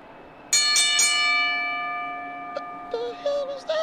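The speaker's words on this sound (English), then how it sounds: "That's the giveaway bell." A stream's giveaway bell chimes in a quick run of bright, ringing strikes and then sustains in a long decaying tone, followed by a few fainter electronic blips and tones near the end.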